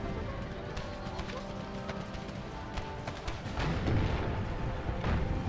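Cavalry horses gallop across a battlefield in an American Civil War mod of Empire: Total War, a steady rumble of hoofbeats buried in dense battle noise with scattered cannon booms and gunfire throughout.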